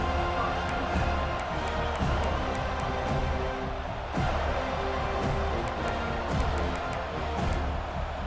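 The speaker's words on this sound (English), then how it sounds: "This crowd ready to make its presence known" A stadium crowd roars in a college football video game, a dense, steady wall of cheering and noise held at an even level throughout, with scattered sharper shouts and claps on top.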